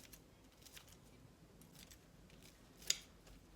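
Scissors cut tofu tenders for a salad in a quiet kitchen, giving a single faint, brief snip with only soft handling rustle around it.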